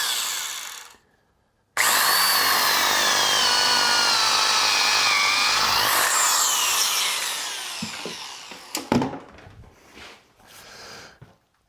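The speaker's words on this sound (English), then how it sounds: "The whole idea is that I drill a hole in here." A power drill bores a hole into a block of green wood being prepared for rough-turning a salad bowl, a loud steady whine lasting several seconds, then tapering off into scattered knocks and handling noises.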